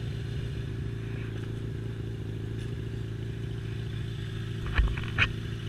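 A Yamaha XJ6 motorcycle riding on the road, heard as a steady, low engine hum throughout, with a couple of brief clatters near the end.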